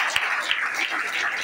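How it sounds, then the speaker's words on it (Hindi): Audience applause in a hall, a short burst of dense clapping at fairly even volume, with a couple of sharper individual claps standing out. "बहुत सारे लोग यहाँ पर तालियां बजा रहे हैं"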